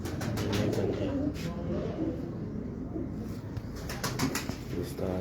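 Pigeons on a Karachi rooftop coo and rustle in a steady, close chorus, with wing flutters and a voice talking over them throughout.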